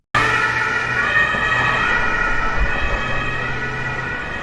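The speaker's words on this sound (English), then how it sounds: "Here is the sound of emergency medical van." An emergency medical van, like an ambulance, sounds its siren in a loud, continuous wail with layered high tones over a low engine rumble, close by and with no voices.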